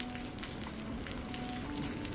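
Heavy rain falling steadily, a faint continuous hiss of drops on surfaces with no distinct breaks.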